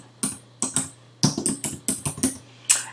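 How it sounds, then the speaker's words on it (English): Typing on a computer keyboard: about a dozen crisp, close key clicks in quick, uneven bursts with short pauses between, alone with no voices. "So I'm going to type in the box here"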